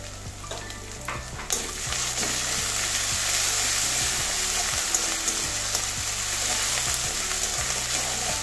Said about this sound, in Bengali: এটাও কাঁচা গন্ধ যাওয়া পর্যন্ত ভাজবো।